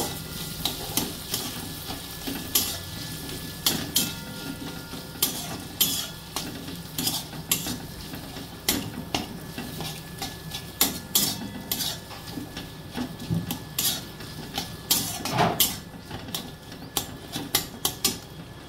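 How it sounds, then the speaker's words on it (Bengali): A spoon stirs and scrapes paneer into a mixture in a hot pan, with repeated clinks and scrapes over a steady sizzle. "এবার পনিরটাকে ভালো করে এর সঙ্গে মিশিয়ে নেব"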